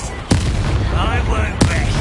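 Confringo fire spell blasts in the game Hogwarts Legacy, two sharp booming impacts about a second apart over a loud, dense game background.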